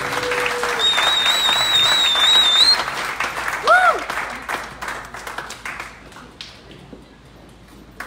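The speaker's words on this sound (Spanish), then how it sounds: "Denle un aplauso a las chicas" Wedding guests applaud and cheer at a pastors' church wedding in California, a dense round of clapping with a whistle and some voices, loud at first, then thinning out and fading toward the end.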